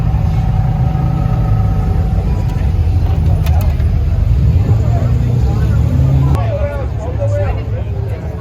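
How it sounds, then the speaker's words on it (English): A Ferrari Enzo and a LaFerrari pull away among a crowd, engine rumble and traffic noise steady and loud under constant chatter and voices nearby. "We got the Enzo and the LaFerrari leaving too."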